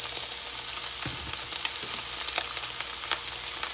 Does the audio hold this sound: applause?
no